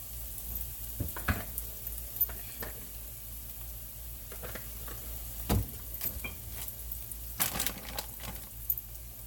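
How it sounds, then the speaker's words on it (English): Small shrimp sizzling in hot oil in a pan for fried rice, a steady quiet hiss broken by scattered pops and crackles, with no talking. "I'm just going to simply pour some more oil in the pan and start adding the shrimp"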